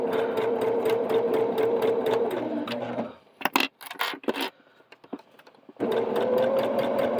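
A Babylock sewing machine fitted with an off-brand foot stitches piping onto a purse: a loud, even run of stitching, a pause filled with a few sharp clicks and light taps, then the stitching starts again.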